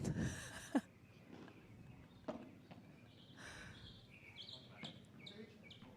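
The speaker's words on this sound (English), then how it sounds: "Some birds." Birds chirp faintly in the background at a Miami pickleball event, scattered tweets under crowd noise and a few sharp paddle or footstep-like knocks.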